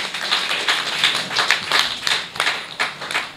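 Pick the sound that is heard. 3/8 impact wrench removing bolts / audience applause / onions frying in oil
audience applause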